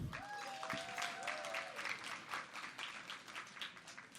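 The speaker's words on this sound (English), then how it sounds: "Can we give them all a round of applause?" At a business networking event, a crowd offers a round of applause, steady clapping from many people at a faint level, with a brief squeaky tone sounding near the start.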